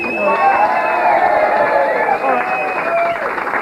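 Studio audience at a TV chat show interview with a world champion boxer erupts in loud, sustained cheering and whistling with crowd noise, a steady roar filling the room throughout.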